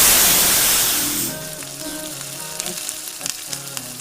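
Tomato paste frying in hot oil for a rajma (kidney bean) curry, a dense loud sizzle that settles into a steady crackle with scattered pops and light stirring scrapes, no talking.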